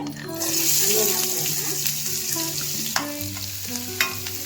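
Chopped onion frying in hot oil in a pan for a brinjal curry, a loud, steady close sizzle with crackles and stirring clatter, with a voice speaking over it.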